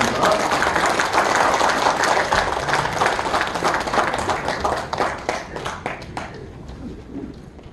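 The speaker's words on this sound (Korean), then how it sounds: "큰 박수 부탁드립니다" An audience in a small National Assembly meeting room gives a sustained round of clapping, dense and fairly close, that thins out toward the end.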